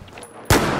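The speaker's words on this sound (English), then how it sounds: "we've got some sniper shooting at us from quite far out" A single sniper rifle shot in Battlefield 4 cracks abruptly after a brief low hum, followed by a sustained loud echoing tail.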